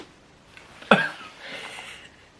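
A single short, sharp sniff close up, taken from a glass of rum, standing out briefly against a quiet background.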